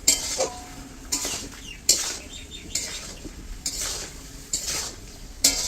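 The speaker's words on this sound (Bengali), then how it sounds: "এখন অল্প ঘাটাঘাটি হোক, তো মিক্স করা যাক" A spoon stirs chicken with salt and turmeric in a pot, making a series of sharp metallic scrapes and clanks about every second over a soft sizzle, close by with no talking.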